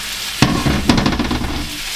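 Mushrooms dropped into melted butter in a pan, sizzling loudly and close, with two sharp bursts as they land followed by steady crackling frying.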